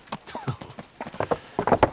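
A horse's hooves clopping at a steady walking rhythm in the Kingdom Come Deliverance video game, fairly close and distinct, getting busier and louder toward the end.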